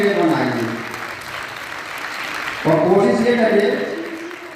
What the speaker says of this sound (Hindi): इसलिए आप जोर से ताली बजाएं